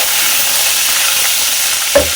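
Ginger garlic paste fries and is stirred in a hot pan of oil, giving a steady, close sizzle with soft scraping stirs and a brief clink near the end.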